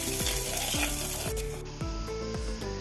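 Chopped onion hitting hot oil already crackling with mustard seeds and dried red chillies, a loud continuous sizzle with a scrape of the pan every half second or so, as for Kerala moru kachiyathu.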